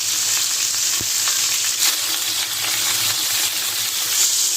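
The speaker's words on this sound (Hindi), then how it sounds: "अभी ये जो गोश्त वाली साइड है इसको हम नीचे रखेंगे, सारे पीस हम फ्राई कर लेंगे।" Fish shashlik pieces frying in hot ghee on a tawa, flesh side down, giving a dense, steady sizzle with continuous crackle and occasional light clinks, close and without talk.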